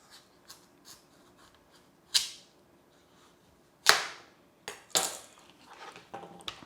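Knife chopping the ends off a butternut squash on a cutting board, several sharp separate cracks and thuds spaced a second or two apart, close and fairly loud with quiet gaps between.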